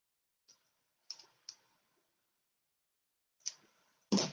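Ribbon ends for a handmade card being trimmed with scissors give a few sharp, quiet snips spaced apart, then a louder final cut, all close and in near silence.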